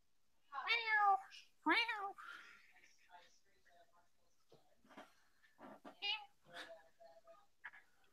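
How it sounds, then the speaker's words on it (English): A cat in a studio meows two clear, loud times near the mic, followed by softer scattered cries and bits of talk. "Shut your goddamn cat up."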